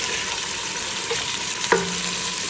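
Capsicum, ginger, garlic and whole spices fry together in hot oil, giving a steady, close sizzle with a soft stir and a brief clink near the end, no voices.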